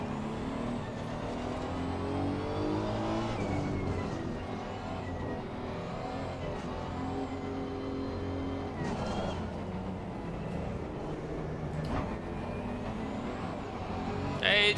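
Honda NSX race car in Assetto Corsa Competizione at Suzuka, a steady engine drone with rising and falling pitch as it revs through gears, continuous and fairly quiet.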